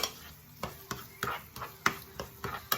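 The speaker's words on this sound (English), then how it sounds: "So I'm just going to let the onion saute down a little bit now." Diced onion sautéing in a pan for an Indian chicken curry, a soft steady sizzle broken by sharp clinks and scrapes of a utensil stirring against the pan.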